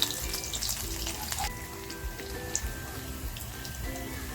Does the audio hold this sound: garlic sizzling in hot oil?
yes